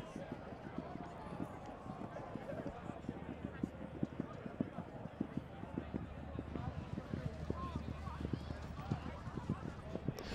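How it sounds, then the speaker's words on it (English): Large Clydesdale horses canter around a show ring, their hooves giving a fast, steady, rhythmic thudding on the ground under a low rumble of crowd and speech. "them cantering past us, the ground is thundering as they go around the ring"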